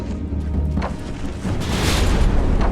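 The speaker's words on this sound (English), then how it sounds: "First volley away." Naval gun volley fired from a dreadnought-era warship in a naval combat video game, heavy booming blasts with a rumbling low end and layered distant reports over roughly three seconds, no talking.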